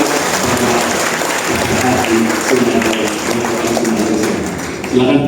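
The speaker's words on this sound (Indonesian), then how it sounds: "Beri gemuruh tepuk tangan untuk Yang Mulia Wakil Ketua Mahkamah Agung Indonesia." Audience applause at an Indonesian judicial training session, welcoming the Deputy Chief Justice of the Supreme Court: steady, dense clapping from a hall crowd, sustained throughout with a slight swell near the end.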